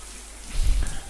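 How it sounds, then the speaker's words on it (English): Water from a shower in a visual novel game, a steady hiss of spray that swells louder in the second half of the short moment. "Cold water splashed against Ikari, soaking away the tension from the battle."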